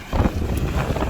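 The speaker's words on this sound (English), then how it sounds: "It's really windy today." Strong wind in an open farm field during muck spreading, roaring and buffeting the microphone in a steady, loud low rumble throughout, with no one speaking.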